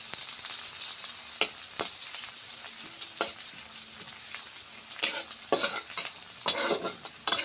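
Onions frying in hot oil while being stirred: a continuous bright sizzle close up, with repeated scraping strokes and taps of a spoon against the pan.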